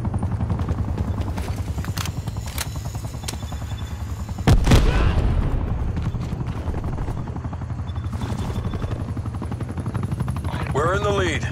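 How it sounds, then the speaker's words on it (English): Attack helicopter rotor drone with gunfire in the Call of Duty: Black Ops Cold War video game, a steady loud chopping hum with a sharp burst of shots and a boom partway through, game voice announcements over it. "Hostile attack helicopter inbound."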